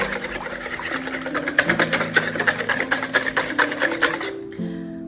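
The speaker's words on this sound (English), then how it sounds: "And then I'm going to whisk this all together." Zucchini bread batter is whisked by hand in a bowl, giving a fast, steady, rhythmic beating and scraping that runs close and loud, then stops abruptly at the end.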